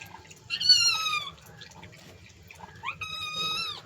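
A small kitten gives two high, drawn-out meows close by, the first near the start and the second toward the end, with faint background noise and a quiet pause between them.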